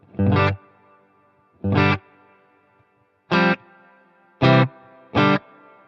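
Electric guitar run through a Wampler Ethereal pedal set to a light plate-style reverb, five separate strummed chords with short reverberant tails between them, loud and alone.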